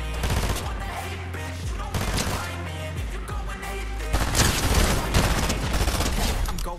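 Rapid, dense gunfire in the Fortnite video game, including shotgun blasts, fills the whole stretch with loud overlapping bangs and a brief lull near the middle.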